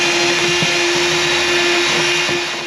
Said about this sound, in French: c'est plus simple que je coupe et que je perce au diamètre du câble